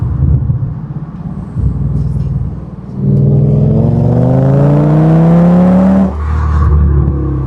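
An Audi V10 with a Milltek exhaust revs while driving, rising in pitch through a gear before a brief dip and a fresh pull, loud and close with steady engine rumble throughout.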